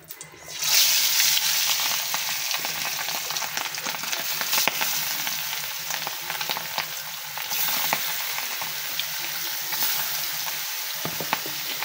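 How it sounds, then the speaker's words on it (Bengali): Pangas fish pieces dropped into hot oil, a loud close burst of sizzling that starts abruptly and keeps crackling steadily for over ten seconds with no voices. "তেল গরমও হয়ে গেছে। মাছগুলো দিয়ে দেই।"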